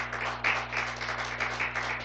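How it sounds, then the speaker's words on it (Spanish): A church congregation claps together, a short burst of rhythmic, fairly close applause over a steady electrical hum, with no speech over it. "Un aplauso al Señor"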